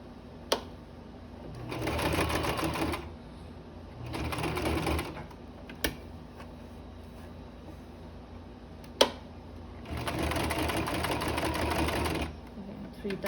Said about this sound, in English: we're gonna fold about an inch and we're gonna sew it